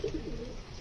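Pigeons let out of a coop coo and flutter softly for under a second, faint and nearby, with no voices.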